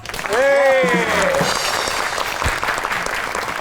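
A studio audience at a comedy talk show applauds to welcome a guest, sustained clapping under a brief sung or drawn-out vocal flourish at the start, continuing steadily afterward.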